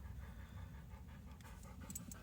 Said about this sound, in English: Sorry, dog was acting up.